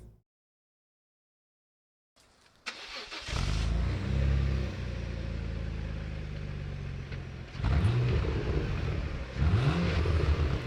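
A Renault Clio V6, a later model version, its engine starting up after a moment of silence and settling into a loud idle, then revving hard twice in quick blips.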